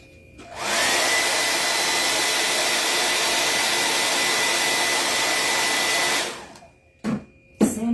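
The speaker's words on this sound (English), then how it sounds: "So I'm about to use my blow dryer." A hair blow dryer used on a DIY patriotic fireplace mantel craft project switches on and roars at a steady, loud whoosh for about five seconds, then cuts off, followed by a couple of brief handling bumps.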